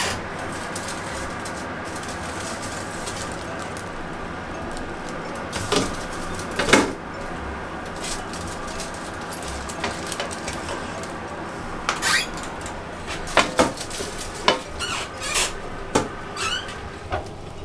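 A tray of guava cheese Cuban pastelitos comes out of an oven, with faint background hum broken by scattered clunks, creaks and metallic clatters of the oven door and pan, some close and sharp.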